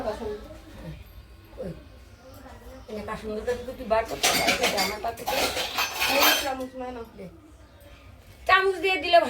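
Fried bitter gourd is spooned onto a plate, giving clinks and scrapes of spoon against dishware, while people talk over much of it.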